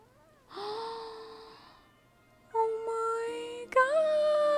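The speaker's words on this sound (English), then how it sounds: "It's a cat?" Cat meowing in a Wuthering Waves cutscene, a few drawn-out tonal mews with gaps between them, fairly close and clear over quiet game ambience, with no purr evident.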